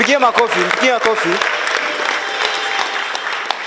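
Applause from an audience at a university students' association anniversary event, starting under a speaker's voice and then continuing as steady sustained clapping.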